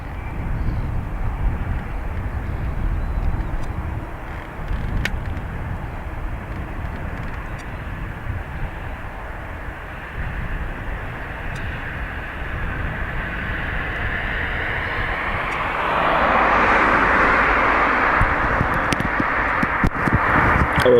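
A jet airliner departs Dublin Airport, its broad engine roar building steadily and swelling loudest near the end as it powers past close by outdoors.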